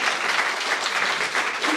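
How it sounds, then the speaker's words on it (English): An audience at a startup pitch night applauds, producing dense, even clapping that stays loud and unbroken from start to finish. "a round of applause"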